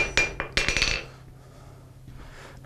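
A blacksmith's hammer strikes an anvil in a coal forge shop, a quick run of about seven bright ringing metallic blows followed by a quieter pause and one final clang.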